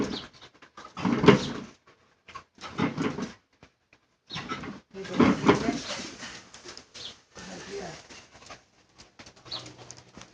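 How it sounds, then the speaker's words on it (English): A puppy growls and barks in short bursts separated by silences, close and fairly loud, with some cooing, pigeon-like vocal tones among the sounds. "So can you hear her growling bark at her?"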